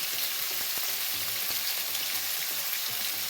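Cauliflower fries in oil over medium heat, giving a steady, dense sizzle with faint stirring clicks underneath.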